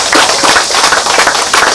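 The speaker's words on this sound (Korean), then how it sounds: "이 세 분에게 박수 한번 쳐주세요." An audience at a Korean public ceremony breaks into loud, sustained applause, a dense steady wash of many hands clapping close by for the whole stretch.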